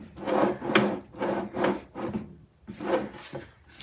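A repurposed metal file cabinet drawer is pushed in and out, its wooden runners rubbing and scraping in several close, rhythmic strokes with short pauses between.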